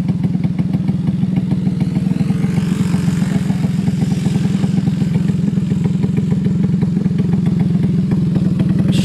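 A loud Unlimited All-Star race car engine roars steadily at a practice session at the Big O, its deep rumble continuous and close throughout with no voices.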